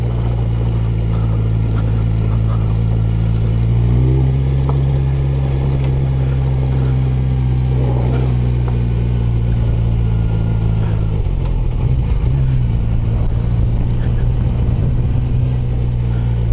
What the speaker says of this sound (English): the Mighty Versys is taking this thing on in second gear